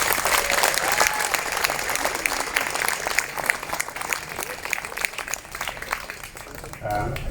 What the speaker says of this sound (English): So I want to give them a round of applause for their great volunteer work.